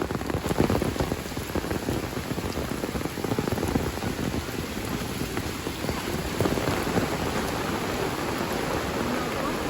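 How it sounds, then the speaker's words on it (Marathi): Heavy monsoon rain pours steadily onto surfaces in the Konkan region, a dense continuous patter with no breaks, close and loud throughout. "अजून येईल पाऊस पडताय भरपूर"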